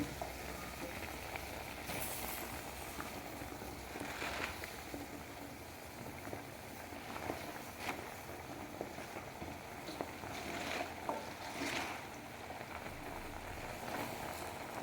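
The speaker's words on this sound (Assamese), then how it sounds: "এইখিনি চিকেনখিনি অকণমান বইল হৈ আহিছে" Small chicken simmering in a pot with a steady bubbling, sizzling hiss that carries throughout, a few faint clicks and utensil knocks scattered over it, fairly quiet and close.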